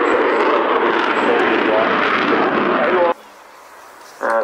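Mirage jets roaring loudly overhead during a dogfight display at the Air Tattoo air show, a dense sustained engine rush that cuts off abruptly and returns briefly at the end.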